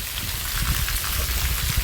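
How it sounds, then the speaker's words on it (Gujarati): Heavy rain pours down in a dense, continuous hiss with pattering drops on surfaces, loud and close, steady with no let-up and no voices. "મિત્રો વરસાદ ભૂકા કાઢે છે"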